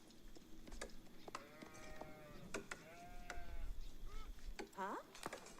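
Sheep bleating in the strategy game Age of Empires IV, several wavering calls scattered across the stretch amid soft game clicks and background sounds, with occasional faint voices.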